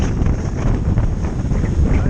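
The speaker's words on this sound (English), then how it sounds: "there's a little bit of a wind coming over there" Steady wind buffets an outdoor microphone in the countryside near Uldale and Dent, a dense low rumble and hiss that stays loud and constant throughout.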